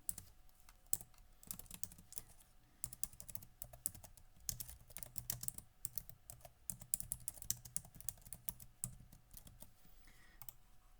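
Steady typing on a computer keyboard while entering text into a spreadsheet, with dense, close key clicks continuing throughout and no one speaking.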